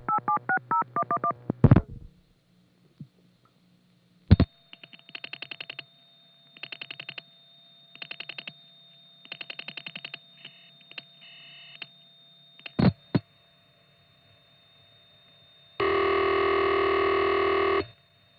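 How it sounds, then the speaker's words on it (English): Touch-tone dialing on the old telephone network for a long-distance call from Lynbrook, Long Island to Rhinebeck, New York: a quick run of DTMF tones, pauses, clicks, bursts of switching tones and relay clicks, ending in a loud sustained tone. "Here's a call from Lynbrook, Long Island to Rhinebeck, New York."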